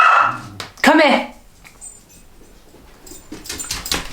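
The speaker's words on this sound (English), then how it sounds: "Every time I press play, you start woof woof woofing." A dog barks in short loud bursts near the microphone, with a strong bark around the first second, while a person speaks over and around it indoors.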